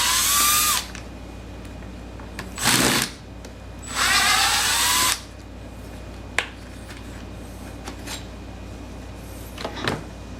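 A cordless power driver buzzes in short whirring bursts while removing the screws from the plastic shroud on a Stihl MS290 chainsaw being converted to MS390 spec, with three longer runs and a few sharp clicks in between, all close up.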